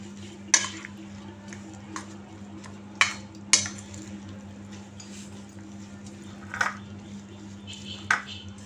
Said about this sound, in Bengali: যে নেড়ে ছেড়ে এখন ভালো করে নেড়ে ছেড়ে দিব